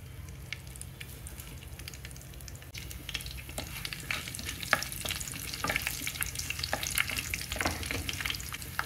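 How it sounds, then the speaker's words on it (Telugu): Tempering spices frying in hot oil in a kadai on a stove, a close, steady sizzle that grows busier over time, with sharp crackles and pops as the seeds spatter in the oil. "బాండీలో ఆయిల్ పోసుకొని స్టవ్ పైన పెట్టుకొని తిరుమల దినుసులు వేసుకోవాలి."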